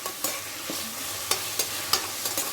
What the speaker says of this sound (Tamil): ஆனியனும் பச்சை மிளகாவும் நல்லா வதங்கட்டும்.